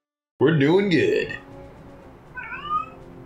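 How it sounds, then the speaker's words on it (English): A house cat gives a loud, drawn-out meow close by, followed after a short pause by a second, softer and shorter meow. "You silly cat."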